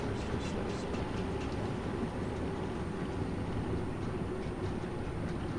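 A Bakerloo Line train in Train Sim World 2 runs along the track, a steady low rumbling drone with faint rhythmic rail clatter, continuous and fairly quiet.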